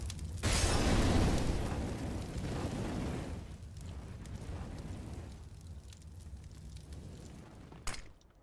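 Incendiary grenade thrown on the Mirage map in Counter-Strike, erupting in a loud roaring whoosh of flame that burns on steadily for several seconds and fades, with a sharp crackle near the end.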